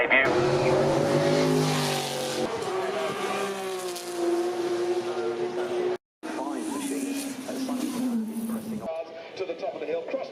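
A race car driven by Alex Zanardi launches up the Goodwood Festival of Speed hill climb in 2016, its engine revving hard through rising gear changes from close by, while a commentator talks over it throughout.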